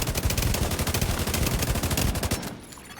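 Rapid automatic rifle fire aimed at a turret in The Division 2, a dense burst of sharp, evenly spaced shots lasting over two seconds before stopping, leaving a faint ringing tail.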